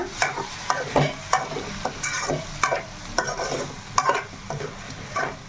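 Raw prawns with potato cook in a hot pan as masala goes in, with a spoon scraping and stirring in quick repeated strokes over a constant close sizzle.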